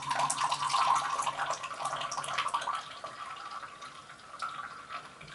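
Jungle Starlet tea infusion pours out of a Zini pot in a steady liquid splash that is loudest at first and then thins toward a lighter trickle.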